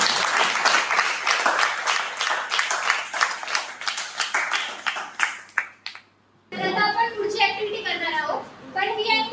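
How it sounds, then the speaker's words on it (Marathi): An audience at a 3D printing technology event claps together in a steady burst lasting several seconds, then falls silent before a voice starts talking. "टाळ्या वाजवा."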